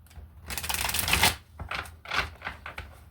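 Tarot cards are shuffled by hand in a few quick, riffling bursts, close up, with short pauses between the rustling flurries.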